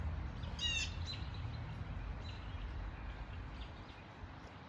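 Birds chirp outdoors in a few quick, bright bursts, the clearest near the start, with fainter calls later over a soft ambient rumble.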